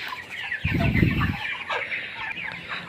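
Broiler chickens about twenty-nine days old on a farm cluck nearby in a flock, one louder burst standing out near the start before softer clucking continues alone.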